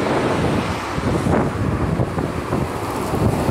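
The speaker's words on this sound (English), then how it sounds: "It's getting like windy." Strong wind roars steadily across the microphone, a dense, rushing blast that never lets up, with no voices.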